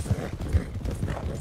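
Horse hooves clip-clop in Red Dead Redemption 2, a steady rhythmic plodding of an upgraded horse in the game, low and fairly close, with a faint murmur of voice in the background.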